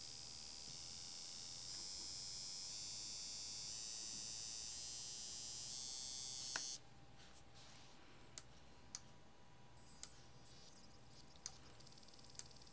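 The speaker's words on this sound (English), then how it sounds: "the motor will rotate the other way" A small DC motor driven by an L293D chip under Arduino control whirs steadily and close for about seven seconds with a high whine, then cuts off, leaving faint hum and scattered isolated clicks.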